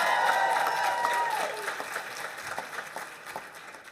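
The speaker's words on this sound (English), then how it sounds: "we're going to applaud each and every graduate because they all" An audience at a university graduation ceremony applauds the graduates with steady, moderately loud clapping that thins and fades into scattered claps, with faint crowd voices beneath.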